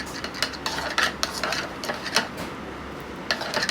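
Paneer batter seasoned with salt and ground black pepper being mixed in a bowl, giving a steady run of soft wet squelching and scraping with a few sharper clicks, close and alone.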